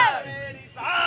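A crowd at an Eid Milad-un-Nabi religious gathering shouts a Takbir slogan in unison, a loud massed yell that dips briefly mid-call before swelling again, close and reverberant.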